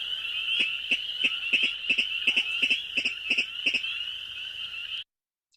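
A Virginia rail in a marsh gives a grunting call, a fast series of rough pig-like pulses over a steady high ringing note, close and loud before cutting off.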